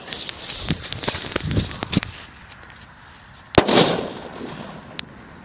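Doom Boom Mini firecrackers, 0.42 gram, sharp cracks going off outdoors, a quick scatter of small pops followed by one louder bang, with rustling and faint noise between them.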